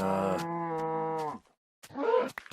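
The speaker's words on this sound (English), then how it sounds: "Man, I found the actual interrupting cow right there." Cow in Minecraft giving a long, loud, sustained moo close by, followed by a brief pause and a short grunting, sigh-like vocal sound.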